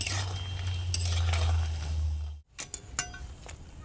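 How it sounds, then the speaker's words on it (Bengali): Flaky nimki pastries fry in hot oil with a steady sizzle and stirring, broken by a brief pause near the midpoint before scraping and light clinks resume. "নিমকিগুলো ভাজা হয়ে আসছে"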